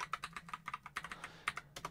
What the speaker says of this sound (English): and then you just want to type in your password